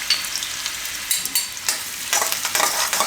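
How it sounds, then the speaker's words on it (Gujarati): Chana dal frying and being stirred in a pan with mustard seeds, green chillies and ginger for ragi upma, a steady close sizzle with scraping stirs rising in bursts toward the end, no talk. "હવે એમાં દાળ નાખીશું. તો આ ચણાની દાળ"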